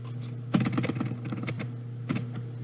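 Quick bursts of keystrokes on a computer keyboard, a close, fairly faint cluster of clicks followed by a pause and a second short flurry, with no voices.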